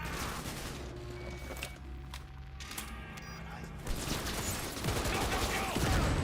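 Bursts of rifle or machine-gun fire in Cyberpunk 2077, repeated shots over a busy game soundscape with a steady background bed, growing louder toward the end.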